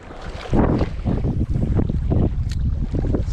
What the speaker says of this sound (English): A little windy out here at the lake today